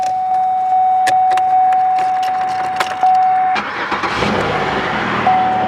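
A Pontiac Grand Am GT starting up: a steady door chime and a few clicks, then the starter cranks and the engine catches into a loud, close idle, with the chime returning at the end.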